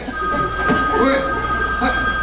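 A telephone rings muffled from inside a purse, its repeating tone running under a busy room while people talk.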